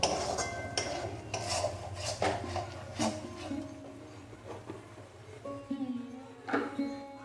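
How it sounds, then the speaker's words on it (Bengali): Turmeric and spices are stirred into a Bengali village-style chicken curry in a pot: a spoon scrapes and clinks against the pot in repeated rhythmic strokes, close and fairly loud, with no talk over it. "ভালোভাবে মিশাবো।"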